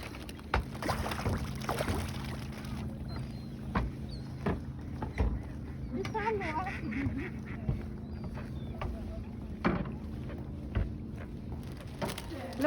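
A few quacks from a duck at a lake, moderately close, scattered through the middle with water splashes and knocks around them, while people talk quietly and the background stays low.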